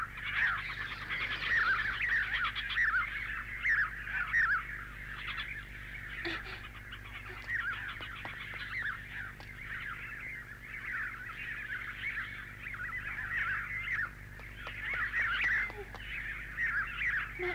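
Many cartoon birds chatter and chirp together in a palace, a dense, steady flock of high calls that lasts throughout at fairly constant loudness, with no talking.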